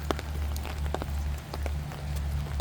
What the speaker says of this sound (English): This has just been a slow, steady rain, which is exactly what we need to soak into the ground.